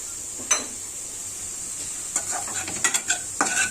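Food frying in a little oil in a pan, a steady sizzle beneath a few sharp scraping stirs of a spatula, clustered toward the end of the short stretch.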